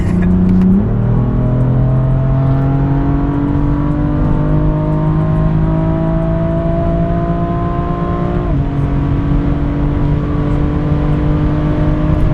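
A BMW F80 M3 CS engine pulls hard under sustained acceleration, loud and close, its rising revving tone climbing steadily with a brief gear-change dip partway through, no talking.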